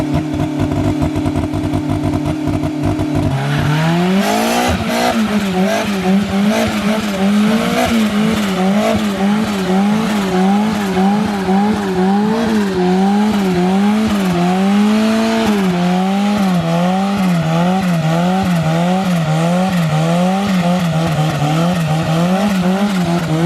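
A station wagon does a burnout, its engine revving up after a few seconds and then holding a loud, wavering roar with squealing tires, continuous and close for over twenty seconds.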